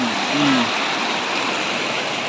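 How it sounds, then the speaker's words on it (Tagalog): The Angat River near Angat Dam flows in a steady, close, broadband rush of water. A brief whistling tone sounds at the start. "Yung tubig, oh. Ganda ng tubig."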